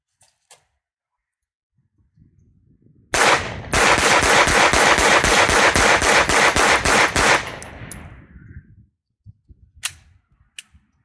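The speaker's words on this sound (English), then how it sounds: "we're going to do a rapid fire test, then we'll shoot another group, make sure it held 0" Pistol emptied in rapid fire with 115 grain CCI Blazer ammunition, a loud, close string of quick evenly spaced shots lasting about four seconds, followed by a few faint clicks and handling noises.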